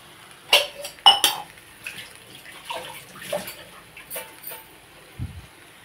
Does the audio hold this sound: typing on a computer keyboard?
no